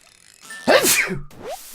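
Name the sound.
sneeze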